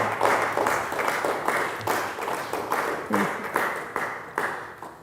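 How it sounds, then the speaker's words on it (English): An audience at a talk on Sri Aurobindo's social philosophy breaks into steady applause, dense overlapping claps with a few louder individual hits, continuing at an even level for several seconds. "Can give applause to her."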